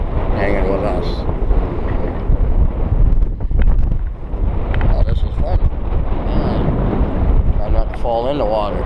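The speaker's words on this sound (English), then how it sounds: "you can probably hear the wind" Strong wind buffets the microphone at a boat anchorage, a steady loud roar with gusty surges and faint water sounds underneath, while people's voices come through intermittently.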